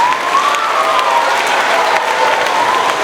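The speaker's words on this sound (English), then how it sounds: "let's please give one last round of applause for all our award winners" An audience at a middle school year-end awards ceremony gives a round of applause for award winners, a continuous, loud clapping with a faint cheer or whistle running through it.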